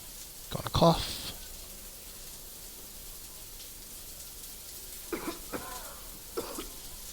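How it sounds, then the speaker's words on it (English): A single cough bursts out near the start during Cyberpunk 2077 play, followed by a few faint throat-clearing sounds later over quiet background hiss. "Gonna cough."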